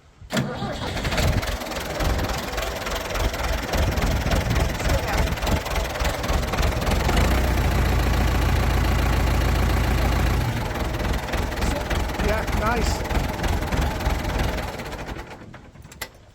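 A Ford 6600 tractor engine cranks and fires at once, then settles into a loud, steady, close idle with a rough mechanical knock. Brief talk comes before it catches.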